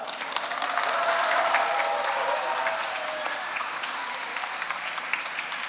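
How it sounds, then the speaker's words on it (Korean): A crowd at a Sewol ferry memorial ceremony in Ulsan breaks into loud, sustained applause, steady dense clapping that swells early and holds evenly to the end with no talking. "여러분 다시 한번 큰 박수 주십시오."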